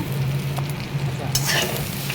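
Steady, close sizzling of vegetables frying in a hot pan, with a brief scrape of stirring partway through.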